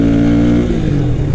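Motorcycle engine under part throttle on a ride, a loud close steady drone whose tone drops slightly as the revs ease off partway through.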